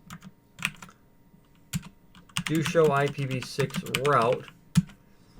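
Router commands typed on a computer keyboard, a quick run of close key clicks with someone talking over part of it.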